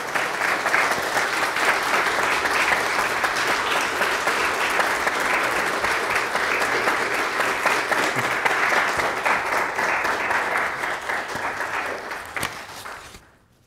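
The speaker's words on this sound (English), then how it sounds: "I invite the congregation to applaud as a sign of affirmation." A church congregation applauds steadily for over twelve seconds during an ordination and installation service, a dense, even wash of many hands clapping before it fades out quickly at the end.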